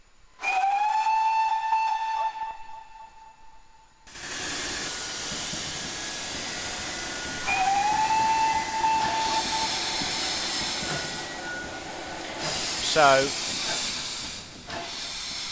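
A Falmouth Pannier steam tank locomotive in a video game sounds two long, loud whistle blasts amid a constant roaring hiss of steam. A brief wavering whistle follows, and a voice speaks briefly.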